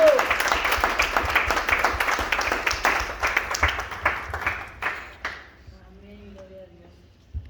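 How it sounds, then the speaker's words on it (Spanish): Congregation clapping at a church baptism service in Perote, dense applause that thins out and fades over several seconds, ending in near quiet with a brief voice. "damos otro aplauso al Rey"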